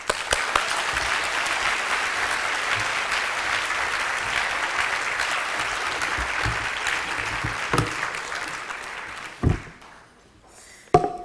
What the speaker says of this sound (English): So let's give a warm round of applause and a great welcome to Professor Rankin.